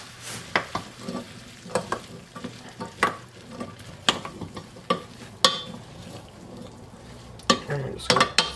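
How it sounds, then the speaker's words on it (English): Diced russet potatoes stirred into vegetables in a pot, with a spoon scraping and clacking against the pot in irregular bursts over a soft sizzle. "I'm just going to stir those in there, get them all coated with the flavorful bits that are already there."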